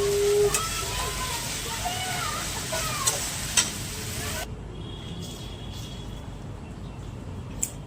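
Sizzling and scraping of spices being stirred in a hot pan, a steady frying hiss with occasional clinks, close by.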